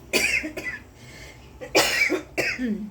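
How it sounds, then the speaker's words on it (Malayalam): Three harsh coughs, close and loud, spaced out with short quiet gaps between them. "ചുമക്കൊരു കുറവില്ല"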